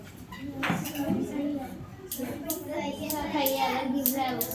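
Children clap in a classroom in a few scattered bursts, with a voice and adult talk running alongside the hand noise.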